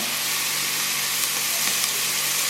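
Onions cooking down in a pot with a little pepper for red chowder, an even, close sizzling hiss that holds steady throughout with a few faint pops and no speech.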